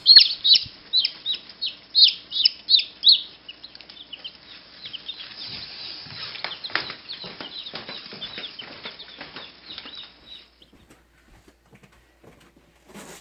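Newly hatched Jersey Giant chicks and chickens make a burst of rapid, high-pitched peeping and clucking for a few seconds, then settle into softer scattered calls over rustling and scratching movement.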